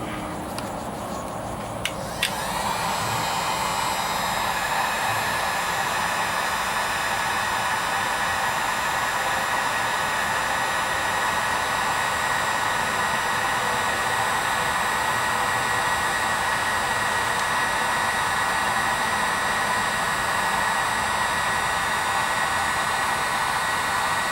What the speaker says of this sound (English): And we have crimped it, and now we will heat gun it.